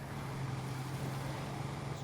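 Truck engine in the video game State of Decay 2, a low, steady rumble droning quietly and evenly throughout, with no speech.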